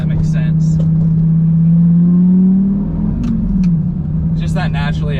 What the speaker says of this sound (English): Just that naturally aspirated V10 is such a cool motor